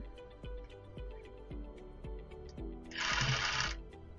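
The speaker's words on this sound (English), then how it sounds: "So before I sew over that, I am I'm pulling the blanket to where I can sew on it." Sewing machine stitching a reworked crochet blanket: quiet, evenly spaced mechanical stitching thumps, then a brief burst of hissy rustling near the end, with no talking.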